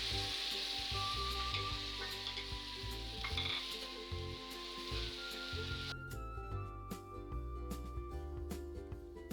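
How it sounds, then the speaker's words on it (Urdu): Onions frying in oil for a Punjabi veriyan curry, a steady close sizzle with stirring scrapes throughout, the frying hiss growing brighter and crisper in the second half. "اس کے لیے ہم اسی آئل میں پیاز ڈالیں گے۔ پہلے اسے تھوڑا اچھی طرح بھون لیں گے۔"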